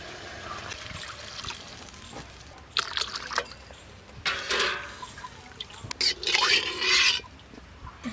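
Water is poured in short splashing bursts into a pan of fish curry with small brinjals and tomatoes, the trickles and gushes coming close by with some faint talk around them.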